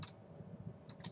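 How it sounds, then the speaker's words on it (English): Fingers tap a computer keyboard in two short bursts of keystrokes, one at the start and one at the end, separated by a quiet pause. The typing is close and fairly soft. "I'm going to type in Texas Lakes Science"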